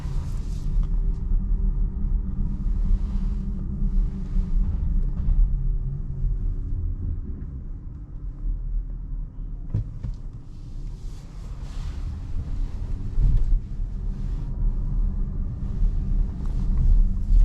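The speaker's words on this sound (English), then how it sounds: "And now we are departing this garage and going on a nice relaxed point of view test drive" Low, steady road rumble inside a 2023 DS 7 E-Tense plug-in hybrid (225 HP) driving through Zagreb at night, a smooth droning hum with faint tire noise and no talking.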